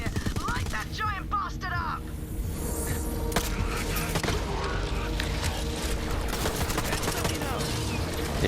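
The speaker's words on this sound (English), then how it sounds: "Let me see how my assault rifle does against him." Assault rifle fire against a giant robot boss in Borderlands 3, dense bursts of shots and booms running throughout over busy game music and effects, with a voice talking over parts.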